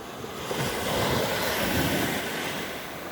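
Sea waves wash continuously onto the shore at a surf-casting fishing spot at dusk, a broad steady roar of surf with gusty wind buffeting the microphone and no voices.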